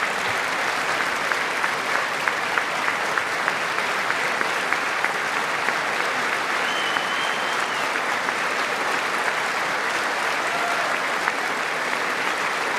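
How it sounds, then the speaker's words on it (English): A large State of the Union audience applauds for a long stretch, sounding like a dense, sustained wash of clapping with a few sharper claps near the front, and no voices in it. "she's getting more applause than he did."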